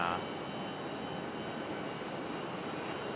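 A United airliner taxis out toward the runway at Raleigh Durham airport, its jet engines producing a steady, broad roar that holds even and unbroken throughout.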